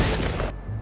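Gunfire from a weapon in the video game Fortnite, a short, loud, dense burst of rapid shots that cuts off abruptly, then a brief trailing echo.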